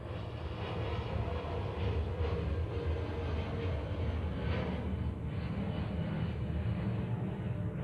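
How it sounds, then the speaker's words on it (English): Aircraft taking off over a museum in early morning, a steady broadband roar that holds throughout at moderate distance, with no voices. "This is supposed to be a takeoff right here over the museum."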